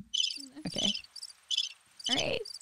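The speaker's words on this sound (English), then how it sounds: "Well, the crickets play." Crickets chirp as a sound effect in short repeating pulses, fairly close and steady, while a voice briefly speaks over the middle and end.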